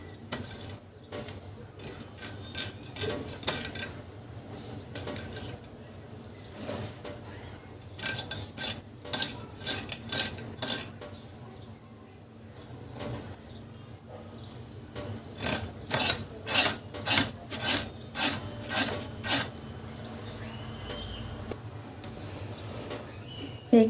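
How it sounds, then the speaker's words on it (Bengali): Rapid bursts of scraping as scales are stripped from a large fish being prepared for cooking with tender bottle gourd, repeated rasping strokes in clusters with short pauses, close and fairly loud. "মাছের আঁশগুলো একটু ভালো করে এখান দিয়ে ছাড়িয়ে নেই।"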